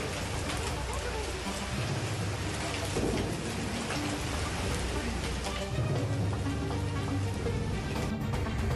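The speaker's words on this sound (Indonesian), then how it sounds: "Tidak hanya guyuran hujan deras dan angin, namun terjadi hujan es berupa gumpalan batu." Heavy rain with strong wind and hailstones pounding down in central Sidoarjo, a dense, continuous roar of rain filling the whole clip, with low rumbling swells underneath, loud and close.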